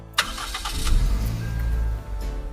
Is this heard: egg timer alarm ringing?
no